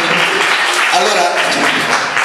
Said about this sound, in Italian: l'applauso ci vuole grosso